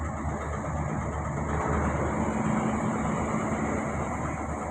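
Boat engines idle steadily in a harbor at night while the team loads a ship, making a continuous low rumbling drone with a faint high hiss above it throughout.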